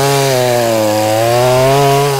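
Kingsaw chainsaw running loud and close, a steady, buzzing two-stroke engine drone with a slight rise and fall in pitch over its short length.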